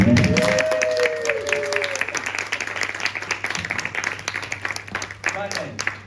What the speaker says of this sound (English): the audience are going to go wild and give you a big round of applause